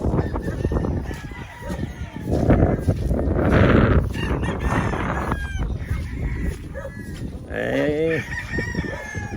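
A rooster crows loudly several times amid a noisy farmyard, with other fowl clucking and squawking around it and some faint voices in the background.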